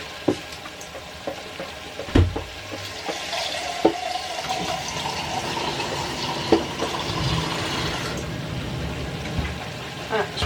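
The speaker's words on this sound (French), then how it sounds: "Je vais mettre de l'eau." Water poured into a cooking pot where food is already cooking, a steady watery pour and sizzle running throughout, with a few clinks and knocks from the pot close by.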